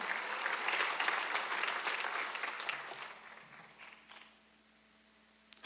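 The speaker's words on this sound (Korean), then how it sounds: "박수 한번 하세요" A church congregation applauds during a Sunday service with dense clapping that gradually fades away over several seconds, leaving near silence.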